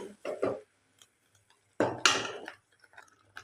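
Kokum and masala paste being stirred in a pan for a Goan fish thali, heard as scraping and clinking bursts, a pair near the start and a louder run midway, with quiet gaps in between.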